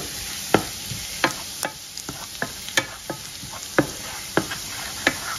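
Minced garlic frying in olive oil until golden brown. A steady sizzling hiss runs under regular sharp taps of a utensil against the pan, about two per second, close and with no one talking.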